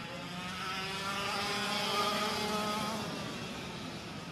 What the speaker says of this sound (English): Master VLR class, 100cc air-cooled engines.